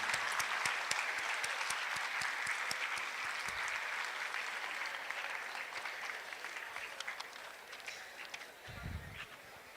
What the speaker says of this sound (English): stand up and applaud this chief guest of ours with a big round of applause and a standing ovation